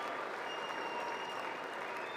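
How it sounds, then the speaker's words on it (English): Politicians in the audience at the 2026 State of the Union applauding, a faint, distant, even patter of clapping that holds steady throughout. "She's doing a golf clap."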